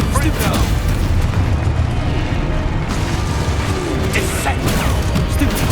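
A Confringo fire-spell explosion booms in the Hogwarts Legacy video game, thick with continuous dense combat noise, crashes and bursts throughout, with a character's voice shouting amid the din.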